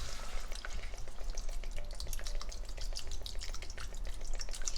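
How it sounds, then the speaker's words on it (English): Seafood stock poured into a hot pan for crawfish étouffée, giving a steady, close sizzle with crackling and dripping bursts running through the whole stretch, no talk. "So I am going to add 2 cups of seafood stock."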